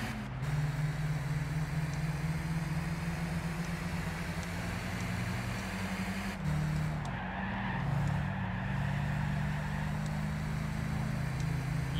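Race cars roar along the main straight in Gran Turismo 6, a constant droning engine note with tire noise as cars swerve, steady and fairly loud throughout.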